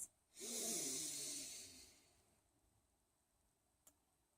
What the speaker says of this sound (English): Inhaling deeply and exhaling completely.